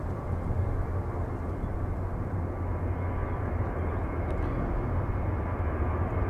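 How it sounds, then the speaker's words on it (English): A TUI airliner departs Manchester for Tenerife, its engines a steady low rumbling roar at moderate distance, even and unbroken, with no one speaking. "TUI heading off to Tenerife"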